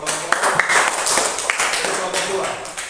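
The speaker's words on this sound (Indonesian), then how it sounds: "tepuk tangan untuk kelompok 2" Audience clapping for a presenting group at a church community class session, loud and close, a steady patter of many hands that begins with a few sharp claps and continues for three seconds while people talk over it.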